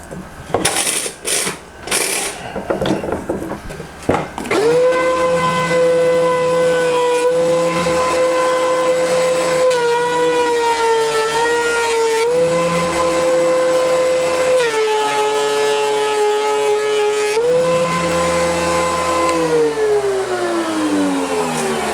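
Rough lumber being milled flat, a woodworking machine starting with clatter and then running at a steady loud hum as a board feeds through, pitch dipping slightly under load several times.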